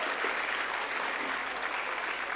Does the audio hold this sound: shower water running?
no